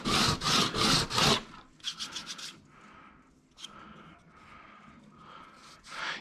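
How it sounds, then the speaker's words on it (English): A plastic part from a WPL 2-speed RC transmission is shaved down by hand. Several loud, close rasping strokes come first, followed by a run of softer, shorter scraping strokes with brief pauses between them. "so don't be afraid to just keep on shaving"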